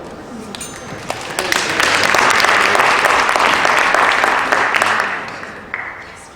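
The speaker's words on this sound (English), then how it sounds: "let's just give them a round of applause" An audience at a Chinese Cultural Foundation event breaks into loud, sustained applause that swells after a moment, holds steady, then tapers off with a few last claps.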